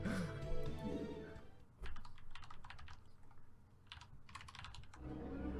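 Computer keyboard keys clatter in rapid, irregular bursts during a live game cast, close and fairly quiet, with brief pauses between flurries and no clear speech.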